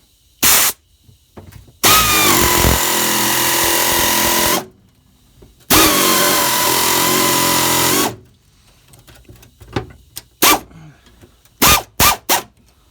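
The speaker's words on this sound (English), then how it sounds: "But watch how easy this cuts this metal." Pneumatic air-powered cutter slicing through car floor sheet metal during a column-to-floor shift conversion on a 1960s/70s car: two loud, sustained cutting bursts of a few seconds each, with short clicks and taps between and after.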